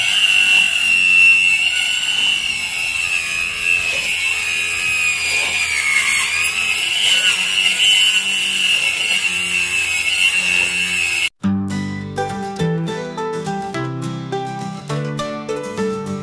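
A power saw whines steadily as it cuts, loud and close for about eleven seconds, then stops abruptly and music takes over.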